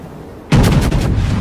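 A World of Warships battleship fires a gun salvo, a sudden loud blast that booms out after a quiet moment, followed by rolling, rumbling echoes and further reports.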